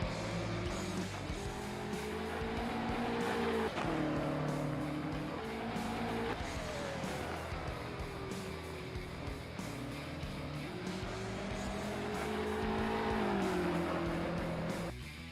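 GT3 race cars racing at the Red Bull Ring in a racing video game: engines roar continuously, rising and falling through the gears, with occasional tire squeal, and no voices heard.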